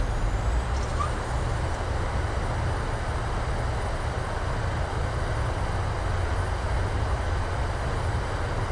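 Steady, loud broadband roar of a PMDG 737 airliner's engines in reverse thrust after landing in a flight simulator, a continuous rushing drone with no clear breaks.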